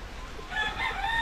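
A rooster crows in a backyard chicken coop, the call rising loud and near from the middle of the clip after a quieter start, with a steady low background rumble underneath.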